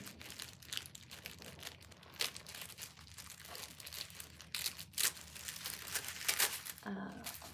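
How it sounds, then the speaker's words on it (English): Tissue paper crinkles and tears close up while a package is unboxed, giving soft continuous rustling broken by sharper ripping bursts. "don't really want to ruin the tissue paper, but I probably will have to here."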